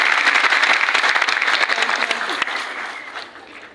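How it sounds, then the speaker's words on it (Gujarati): A crowd at a speech breaks into loud, dense applause that starts at full strength and gradually fades over a few seconds. "પાડો જોરદાર તાળીઓ એના માટે"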